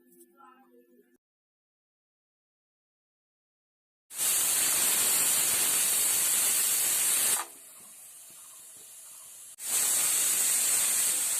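A pressure cooker of banana stem curry on a gas flame lets off loud, steady hissing steam whistles: one long blast, a brief quieter lull, then a second blast, alone without talk.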